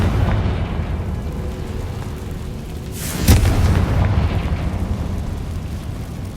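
A Confringo fire spell blasts in Hogwarts Legacy, a single deep explosive burst about halfway through, rising out of a steady low rumbling game ambience and trailing off in a rolling boom.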